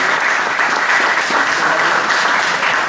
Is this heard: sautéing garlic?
no